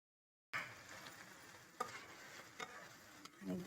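Gola kabab is stirred into a yogurt masala in a karahi pan, with a soft, steady sizzle and a few scraping stirs after a brief silent start. The sound is quiet throughout.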